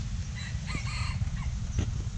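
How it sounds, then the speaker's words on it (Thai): A young rooster, nearly six months old and kept among fighting cocks, crows in a short, strained call of several notes, followed by a brief second attempt, over a steady low background rumble at moderate distance. "เริ่มห้าวแล้วครับกล้าขันแล้วครับ"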